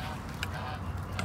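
Geese honk softly a couple of times against a low rumbling outdoor background, faint and somewhat distant, with no clear talking in between.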